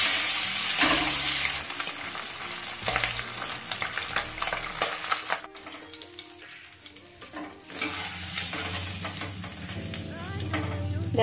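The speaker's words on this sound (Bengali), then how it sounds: "দেখো একে একে সবগুলো মাছই কিন্তু আমি ভেজে নিলাম" Pabda fish fry in hot oil with a steady sizzle, stirred now and then; quiet tonal music plays under the frying and no one speaks.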